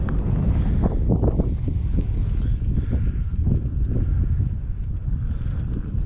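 Strong wind buffets the microphone beside a pond during a fishing trip, a loud, steady low rumble with gusting surges that fills the whole stretch, with no talking.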